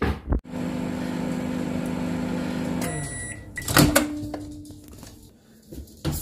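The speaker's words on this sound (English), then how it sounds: "let's give this a quick blast in the microwave just to finish off the defrosting" A microwave oven defrosts raw dog food with a steady electric hum that runs for a few seconds, then stops, followed by a clunk and faint handling clatter.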